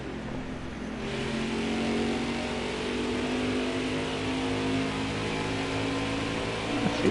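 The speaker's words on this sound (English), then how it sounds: "Got a car coming inside now" Race truck engine from NASCAR Heat 4 at Phoenix, a steady loud droning roar with rising pitch as another truck draws alongside and passes, continuous throughout with no talk.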